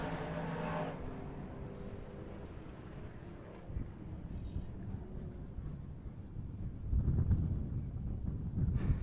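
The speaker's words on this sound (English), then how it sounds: "A little bit of a wind gust." Wind gusts buffet the microphone at an outdoor drift competition at Holley LS Fest Texas, a rumbling low roar that swells strongly toward the end, with faint distant noise behind it.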